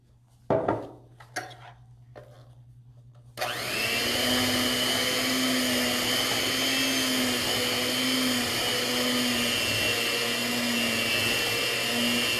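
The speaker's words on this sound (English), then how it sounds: "Now I'm going to go ahead and use the hand mixer." An electric hand mixer whirs steadily through batter after a few knocks and clatters, starting abruptly and holding a loud, even motor hum with a slight wobbling tone for about nine seconds, close by and without talk.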